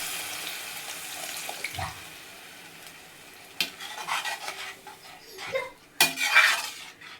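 Dissolved tamarind water is poured into a simmering fish curry, giving soft liquid splashing and trickling with a few sharp clinks of utensils against the pot, fairly faint and close by, with no talking.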